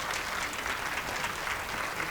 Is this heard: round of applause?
yes